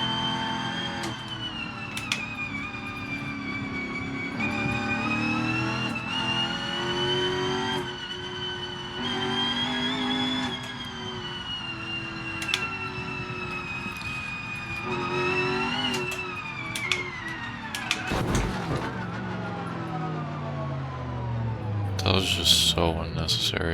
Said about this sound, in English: You can hear the straight cut gears.